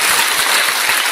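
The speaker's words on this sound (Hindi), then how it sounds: "जोरदार तालियां होनी चाहिए" Applause from an audience at an achievers' day event in Varanasi: dense, steady clapping from a crowd, loud and continuous with no talk over it.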